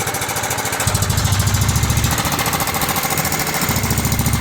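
A Cub Cadet 2166 lawn tractor engine with a muffler fault runs loud and uneven, its low chugging stuttering and surging as if about to stall, with no voices over it.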